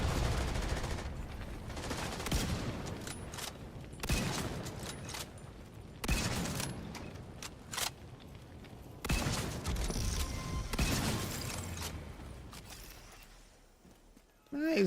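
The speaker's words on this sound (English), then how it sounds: "Using a 50 cal is pretty cool." Bursts of heavy .50 cal machine gun fire in The Division 2 video game, several loud rapid volleys separated by short pauses, with game voice alerts and talk in between.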